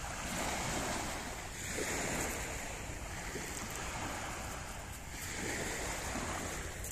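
Steady surf rolling against the shore, broad and continuous with slow swells in loudness, close and loud with a bit of wind across the microphone.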